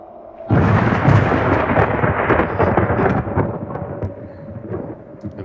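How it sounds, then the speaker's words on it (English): Thunder added as a theatre sound effect: a sudden loud rumbling crack that rolls on continuously for about five seconds, broad and heavy, fading slightly toward the end with no voices. "let's add a little bit of thunder in here and see"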